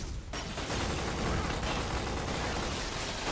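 Enemy gunfire in the PS2 shooter Black, a dense continuous barrage of shots and explosions that stays loud and unbroken for several seconds.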